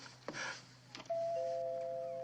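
A doorbell chimes in a 1970s mystery drama, a short two-tone ding-dong after a couple of soft knocks or bumps, the second tone ringing on and sustaining clearly.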